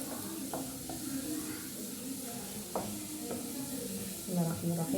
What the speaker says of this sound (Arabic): حمر بس كده التومه كويس، خلي لونها ذهبي